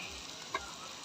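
Food sautéing in a pan gives a soft, continuous sizzle close by, with one brief tick partway through and no talking.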